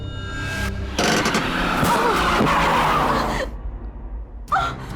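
A car's tires skid loudly as it brakes hard to a stop, a harsh rushing screech lasting about two and a half seconds before dying away into quieter noise, with no voices.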